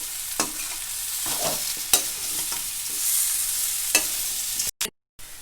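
Cut tapioca pieces being stir-fried with masala over medium flame: a continuous frying hiss with intermittent spoon scrapes, close and fairly loud, cutting out briefly near the end.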